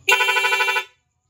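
A Honda XRM110 motorcycle's stock horn sounds together with a rapid loud horn, giving one bright, steady, near blast with a fast pulsing warble, lasting under a second before cutting off into silence.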